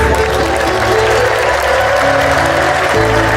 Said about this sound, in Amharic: ጭብጨባው ይድመቅለት፣ እልልታ ይሁንለት